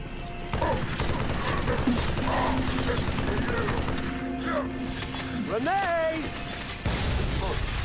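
Assault rifle fire rattles through Halo 3: ODST as steady, dense bursts of shots roll on beneath swooping, whistling game effects. The sound stays loud and continuous across the whole stretch.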